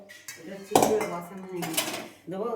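Clanking of a freshly washed metal wok and cooking utensils being handled in a home kitchen while lauki dal is prepared, a few close knocks and clinks with a voice speaking over them.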